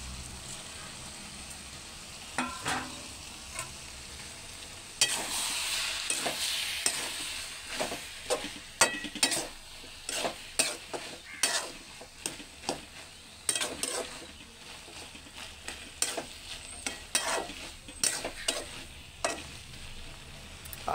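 Cabbage, potato and dried shrimp curry being stirred in a frying pan, a steady sizzle with repeated scraping and knocking strokes of a spoon against the pan at close range, no voices.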